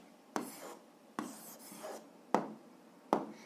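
Pen writing an answer to an algebra exercise on paper, four separate short scratchy strokes spaced about a second apart, close and fairly quiet, no voice.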